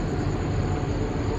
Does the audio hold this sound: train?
yes